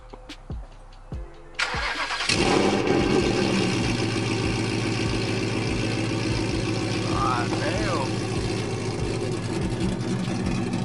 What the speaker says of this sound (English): I'm gonna let him start the car, and then from there, we'll probably just do some pulls.